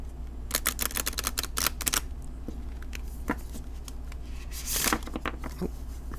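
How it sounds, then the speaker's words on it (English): Oracle cards being shuffled over a decorative cloth, giving bursts of quick papery riffling and soft flicking in close, uneven clusters, with a louder flurry near the end and no voices. "So let's see how they shuffle."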